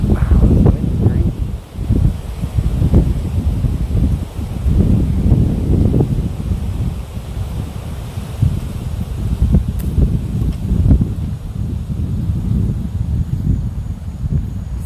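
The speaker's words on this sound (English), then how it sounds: "Wow, this wind's crazy." Strong wind buffets the microphone outdoors in loud, continuous gusty rumbling that rises and falls in waves throughout.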